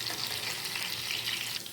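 Ground beef frying in a hot pan, a loud, dense, continuous sizzle up close with no voices.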